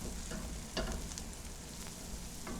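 Onions and jalapeños sizzle steadily in a frying pan, a constant close frying hiss with a few brief scrapes of stirring and no voices.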